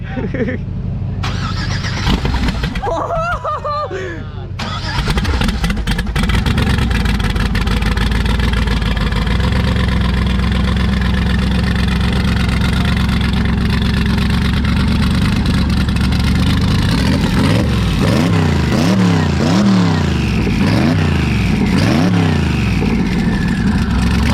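A car engine cranks and fires, then runs loud and steady, with rising and falling revs toward the end, at an outdoor car event.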